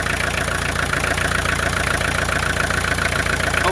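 A 2.1 diesel engine idles just after a cold start, with a loud, close, steady rumble and a fast rhythmic diesel clatter that stays even throughout, heard alone without voices.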